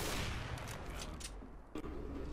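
Gunfire in the tactical shooter game CS:GO during a competitive match, with several sharp broadband shots spread across a couple of seconds over steady game ambience. No one speaks.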